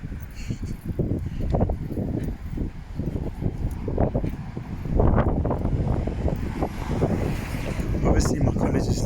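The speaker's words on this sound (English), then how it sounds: "it's literally a windy day at Cambridge" Gusty wind on a windy day in Cambridge, buffeting the microphone outdoors as a steady low rumble throughout, growing louder after the midpoint.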